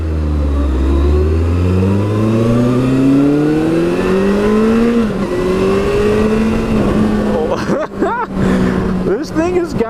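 2014 Kawasaki Concours 14 motorcycle accelerating hard, engine pitch climbing through several gear shifts, loud and close with rushing wind noise.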